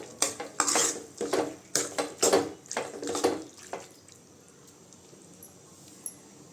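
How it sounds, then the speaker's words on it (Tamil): Metal spoon scraping and clanking in a pan as goat intestine curry is stirred after turmeric is added, a run of close, irregular strokes for about four seconds, then quiet. "இப்போ மஞ்சள் தூள் கொஞ்சம் போட்டுக்கலாங்க நல்லா கிண்டி விட்டுக்கலாம்"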